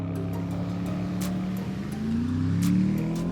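A facelifted Porsche Panamera Turbo S with a twin-turbo 4-litre V8 revs on an expressway. The engine's deep, loud drone climbs in pitch as it accelerates, with faint ticking noises above.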